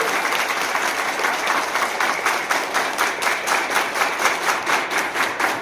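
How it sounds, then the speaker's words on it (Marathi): A crowd at a devotional kirtan of Sant Tukaram abhangs claps loudly and fairly rhythmically, a dense continuous applause with regular pulsing beats throughout, no talking over it. "खरोखरच आपण सर्वांनी एकदा जोरात टाळ्या वाजवून"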